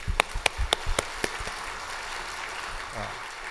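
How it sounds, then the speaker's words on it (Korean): A congregation in a Korean church applauds, with a few sharp, distinct claps at first that quickly blur into a softer, fading patter of clapping against the room's ambience. "오늘 박수 보내주시고"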